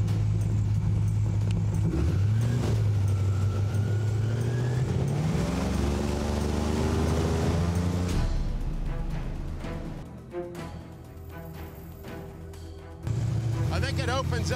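An airboat's engine runs steadily through a marsh on a gator nest and python hunt, its loud droning hum rising in pitch as the craft speeds up, then dipping briefly before surging back, with talk over it.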